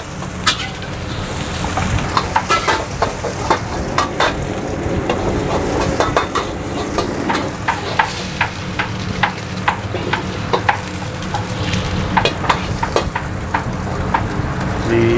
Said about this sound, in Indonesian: Langsung kita tumis bumbunya sampai wangi.